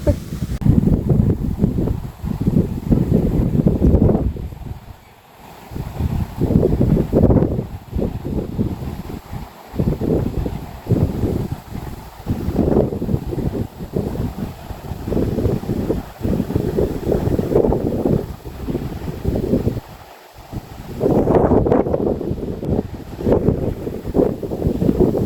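Strong wind on a Calvados beach in Normandy buffets the microphone in loud, roaring gusts that rise and fall over a long stretch, with a faint wash of surf underneath and no voices.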